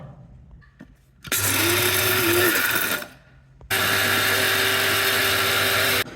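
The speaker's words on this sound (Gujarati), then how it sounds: "આપણે કરી નાખશું દાળિયાનો પાવડર." A kitchen mixer grinder turns roasted chickpeas (daliya) into powder in two loud bursts of whirring, separated by a short pause as the motor winds down and starts again.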